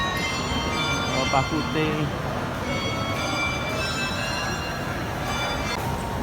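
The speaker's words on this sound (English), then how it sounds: "The bell just rang." A bell rings with a steady, ringing tone through the busy Lau Pa Sat night market in Singapore, under continuous crowd noise and someone talking nearby.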